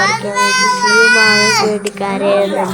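A child cries loudly and continuously, with a sustained wailing, sobbing tone broken by brief catches of breath, close to the listener.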